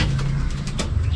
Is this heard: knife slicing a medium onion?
no